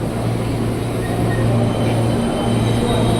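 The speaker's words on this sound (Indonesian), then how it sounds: "KRL tujuan Bogornya yang di jalur 11 kosong guys." A KRL commuter train bound for Bogor at a station platform, a loud steady rumble with a sustained low drone and faint metallic tones, and no voices.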